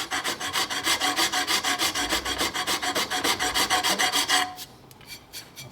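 A hand file rasping across a 1971–76 Harley-Davidson Sportster Ironhead cam cover in quick, regular back-and-forth strokes, loud and close, then slowing to a few lighter strokes near the end.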